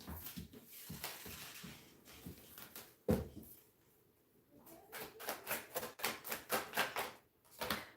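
Tarot cards being shuffled by hand, a series of quick, rapid riffling and tapping bursts close to the mic, quiet and uneven, with short pauses between runs.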